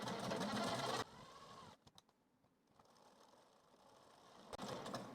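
A sewing machine runs stitching a blouse seam, a loud steady mechanical whir for about a second, then quiet ticks and clicks, and the machine starts up again near the end.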